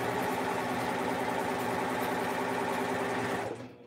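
A strong domestic sewing machine stitches a car trash can for bag making, a steady fast mechanical hum with rapid needle clatter running continuously up close, then stopping abruptly near the end.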